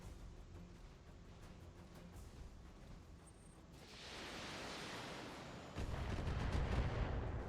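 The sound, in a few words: indirect artillery fire in BattleTech video game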